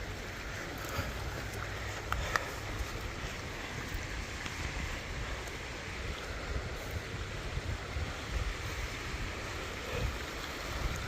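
A river flows beside a sandy riverbank in a continuous, even rush of water, while faint footsteps and light wind sit underneath.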